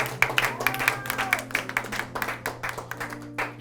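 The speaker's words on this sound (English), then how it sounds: "yes, round of applause." A small audience at a Jamaican consulate Christmas gathering claps in scattered, uneven bursts, fairly quiet and sparse, over a low steady hum with faint voices mixed in.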